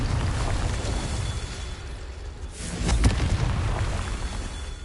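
Confringo fire spell explosion in Hogwarts Legacy, a booming magical blast that swells out of a dense rumbling wash, loud and close, with a sharper burst near the middle.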